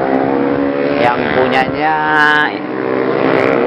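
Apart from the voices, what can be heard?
2020 Yamaha R1M motorcycle engine revving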